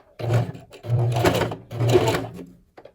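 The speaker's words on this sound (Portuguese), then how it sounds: "já na máquina, com o punho devidamente posicionado, vou costurar punho" A sewing machine stitches a shirt cuff onto a sleeve in three short runs with brief pauses between, a close mechanical whirr, alone.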